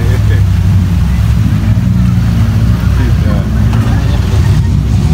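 An off-road jeep tour at the Breksi cliffs in Yogyakarta, with a jeep pushing through water so that spray is thrown up, giving a loud, steady rushing wash over a low engine rumble, with voices talking over it.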